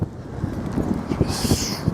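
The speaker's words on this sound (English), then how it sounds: "It's very, very windy." Gusty wind buffets the microphone outdoors with a steady low rumble, loud and close throughout.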